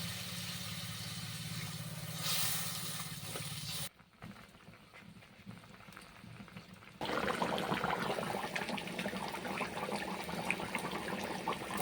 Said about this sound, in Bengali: আমি এরকম একটা সাইজের বাটি দু বাটি জল দিলাম